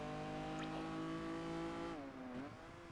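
A Lamborghini Diablo in Project Gotham Racing 4 holds a steady, droning engine note with strong harmonics, then the pitch dips and wavers as it shifts or lifts off. The sound is continuous and fairly near, with no talking.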